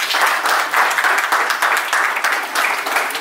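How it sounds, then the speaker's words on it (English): Group applause from trainees at the close of a final expense insurance training session, a dense, steady wash of many hands clapping that continues throughout, fairly close and loud with no talk over it. "Give yourself a round of applause."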